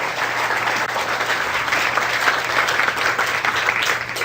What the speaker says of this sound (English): Give me a nice round of applause, folks.